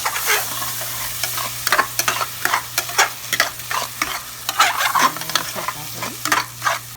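Egg parotta with onion being stirred and fried on a hot street-food griddle, loud continuous sizzling with rhythmic metal spatula scrapes and chopping clacks at a steady pace.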